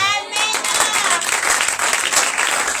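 A church congregation applauding and cheering at a Pessah service, loud sustained clapping from a large crowd with voices mixed in, continuing throughout.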